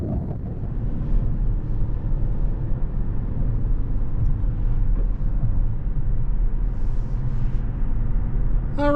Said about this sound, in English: we're going down the road in this 2024 Crown Hybrid Max Top Platinum trim